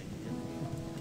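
Rain falling in the Gothic 1 video game, a steady even wash of rainfall noise with a low rumble underneath, continuous and moderately loud.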